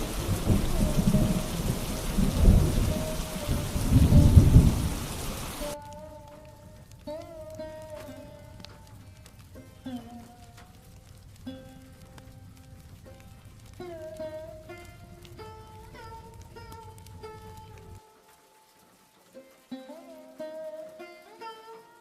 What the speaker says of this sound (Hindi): लगातार बारिश होते होते रात हो गई